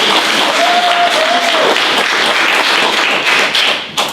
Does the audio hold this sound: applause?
yes